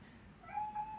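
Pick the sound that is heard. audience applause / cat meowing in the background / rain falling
cat meowing in the background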